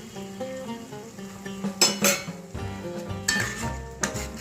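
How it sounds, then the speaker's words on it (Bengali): Egg being stirred with chicken in a pan for a dhaba-style egg chicken tadka, with soft scraping and clinks of a utensil against the pan under a faint sizzle, plus a couple of louder metallic knocks midway. "আস্তে আস্তে করে ডিমটা এরপর নাড়াতে হবে"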